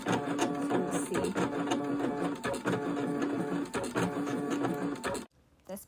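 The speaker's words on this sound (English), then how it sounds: "That's the machine finished cutting." An electronic cutting machine cuts a knitting punch card with a busy mechanical whir and rhythmic buzzing, loud and close and running continuously, then stops abruptly near the end.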